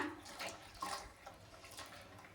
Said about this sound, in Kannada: ಇದು ನಮ್ಗೆ ಯಾವ ಕಂಟೆಸ್ಟೆನ್ಸಿ ಬೇಕು ನೋಡ್ಕೊಂಡು ನೀರು ಹಾಕೊಳ್ಳೋಣ